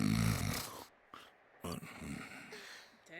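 A character snores in the video game Persona 4 Golden, a few loud, rasping breaths heard close up, broken by short pauses and fainter muffled sounds.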